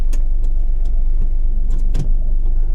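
A 1990 Honda Acty Street G van with a manual gearbox reverses, its small engine giving a steady low hum close by, with a few faint clicks and a brief bump, no talking.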